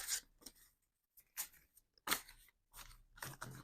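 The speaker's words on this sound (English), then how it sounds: "I've just shuffled the cards" Tarot cards shuffled by hand during a reading, heard as several separate bursts of crisp riffling and slapping, close and fairly faint, with short silent gaps between them and no talking.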